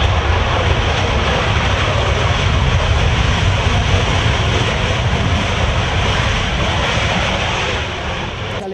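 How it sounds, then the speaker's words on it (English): A Panavia Tornado jet touches down on the runway at an air show, giving a loud, steady, broadband engine roar that stays constant through the landing and eases slightly at the end. "just touching down on the runway is the Tornado"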